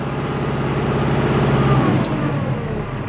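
A tractor engine at 2000 RPM gives a steady, loud drone at constant speed, a low rumbling idle-like hum holding even throughout, with a slight dip in pitch near the end.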